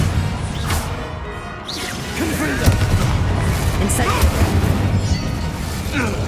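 A Bombarda spell explosion in Hogwarts Legacy combat, heavy booms mixed with whooshing spell casts and crashing impacts, loud and continuous amid a busy battle, with a voice talking over it.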